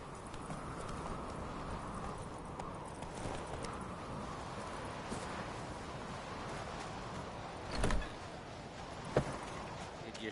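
In a video game, the horse Roach gallops with a fast, rhythmic clatter of hooves over soft ground, moderately loud, with a couple of sharp impacts near the end.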